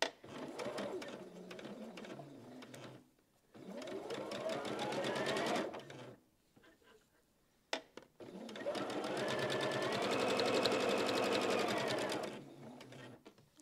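A sewing machine stitches a seam on a baby quilt in three steady whirring bursts of several seconds each, close and fairly loud, with short quiet pauses between runs.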